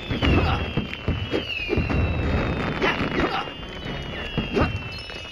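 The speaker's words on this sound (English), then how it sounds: "Watch out for that firework." Repeated video game firework bursts from LEGO Ninjago Shadow of Ronin pop and crackle in quick succession with whistling streaks overhead, loud and close, with brief voices mixed in.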